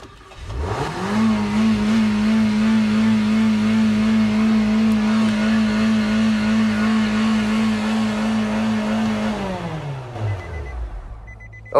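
A car engine revs hard and holds a high, steady drone for about eight seconds while a floor mat presses the gas pedal, then winds down. It sounds close and loud, with no talking.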